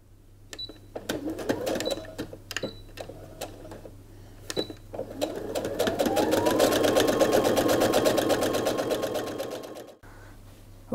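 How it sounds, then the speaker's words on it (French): Sewing machine topstitching around the edges of Christmas table napkins: a few short stitch bursts and clicks at first, then a long steady loud run of rapid stitching that stops abruptly, with no talking. "ce qu'on va faire de nouveau, une surpiqûre tout autour"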